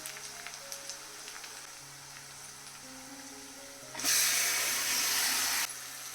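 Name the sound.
marinated chicken sizzling in pan with onions, ginger-garlic paste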